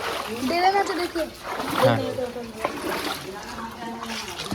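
Floodwater splashing inside a house after one day of heavy rain in Bardhaman town, with repeated sloshing and splatter as someone wades through it, mixed under steady talking voices close by.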